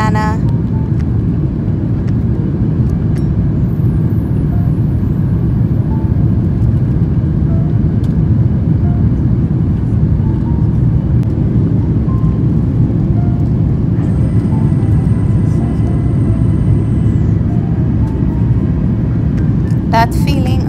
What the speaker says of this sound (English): Plane is getting ready to take off.